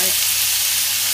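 Kimchi hits a hot pan for kimchi fried rice, making a loud, close, continuous sizzle that fills the whole brief moment.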